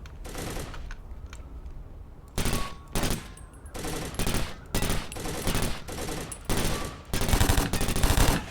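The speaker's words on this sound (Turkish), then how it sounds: "Biri çok yakından sıktı." Close-range automatic gunfire in the tactical shooter Takedown: Red Sabre, loud repeated bursts of rapid shots following a quieter stretch, with no talk over it.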